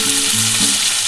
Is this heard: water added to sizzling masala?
yes